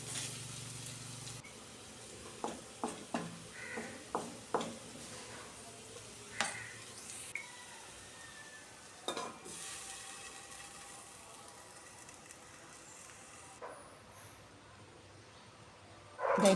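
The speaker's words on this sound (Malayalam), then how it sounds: "ഉപ്പിട്ട് കൊടുത്ത് നന്നായി ഇളക്കിയതിന് ശേഷം അല്പസമയം മൂടി വെച്ച് വേവിച്ചെടുക്കാം." Elephant foot yam pieces are stirred in a pan while cooking, giving a run of quick scraping strokes over a faint sizzle, close and fairly quiet, with no talking.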